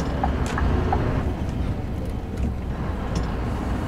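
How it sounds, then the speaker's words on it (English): A 2013 Scania R560 V8 truck engine roars steadily under power on a dual carriageway, a dense continuous low rumble heard from inside the cab, with no speech. "power it up and give you some more sounds of that V8 roaring"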